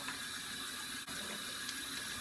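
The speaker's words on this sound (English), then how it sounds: "Turn this water off so you guys can hear me." Tap water runs in a steady broadband rush that stays even and unbroken throughout, close and fairly loud, with no voices over it.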